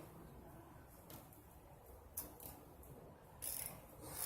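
A ratchet wrench with a socket clicks faintly as it turns a bolt on a 2007 Nissan Maxima during a camshaft sensor change. A few quiet ratcheting passes sit against a low background hum, with no voices.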